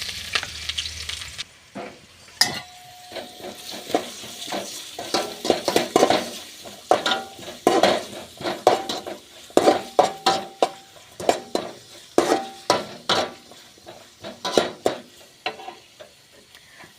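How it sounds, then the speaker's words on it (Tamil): Onion, green chilli and curry leaves fry in hot oil for an egg podimas, with a steady sizzle under frequent sharp clinks of a spoon stirring against the pan. "அடுத்தது வெங்காயம், பச்சை மிளகாய், கருவேப்பிலை எல்லாம் ஒட்டுக்க போட்டுக்கலாம்."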